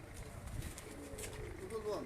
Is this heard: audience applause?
no